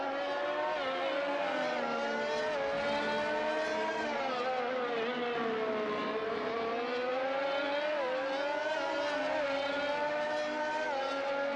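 Several race cars in a PC racing game on the Brazil circuit roll back toward the pits, their engines holding a steady, loud, droning whine that swells and dips slightly as they pass, with no talking.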